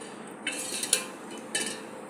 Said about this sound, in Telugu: మజ్జిగ వేసి కలుపుకుంటే